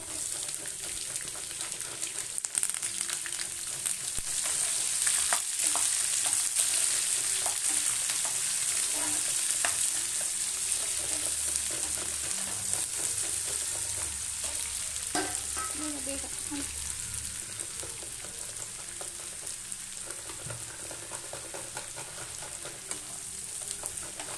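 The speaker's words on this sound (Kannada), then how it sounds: "ಈಗ ನಾನು ಈರುಳ್ಳಿ ಸೇರಿಸ್ಕೊತೀನಿ ನೋಡಿ" Onions sizzle and fry steadily in a pan for raw mango chitranna, a continuous broadband hiss with occasional stirring clinks, loud and close throughout without talk.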